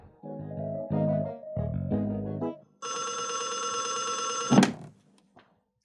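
Telephone bell ringing indoors in a drama scene, several bursts of chiming rings followed by a sustained electronic trill and a sharp clunk as the receiver is lifted.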